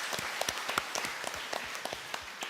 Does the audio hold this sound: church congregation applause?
yes